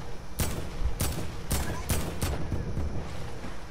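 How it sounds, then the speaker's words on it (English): Gunshots from an alien-shooting video game, fired in a steady series of about six sharp cracks at roughly half-second intervals, loud over a constant game background din. "Julia, do you see my shots?"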